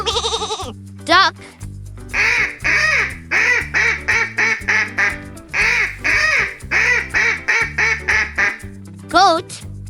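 A duck quacks in a rapid, rhythmic string of many short nasal calls grouped in bursts, loud and close, with squeaky effects at the start and end over background music.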